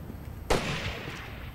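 A single sharp burst of gunfire from Rainbow Six Vegas 2 on Xbox 360 strikes at once, then rings into a sustained noisy wash of shots and echo that fades slowly.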